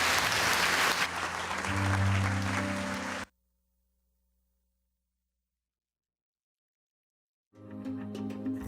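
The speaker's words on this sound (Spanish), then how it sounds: "Ese aplauso al Rey bendito" Applause from a church congregation for the King during a retreat service in Chiapas, Mexico, loud clapping mixed with a low musical hum, cut to total silence midway before sound returns.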